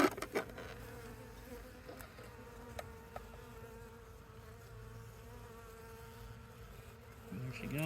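Honey bees buzz, a queen among the workers, in a steady, soft, continuous drone heard up close with a few faint clicks and no talking.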